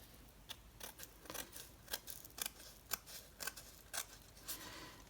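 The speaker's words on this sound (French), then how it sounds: "Il faut vraiment que je vienne couper au ras de mon papier." Scissors snipping through metallic paper for a shaker card, a quick uneven run of crisp cuts, close and faint, with no speech.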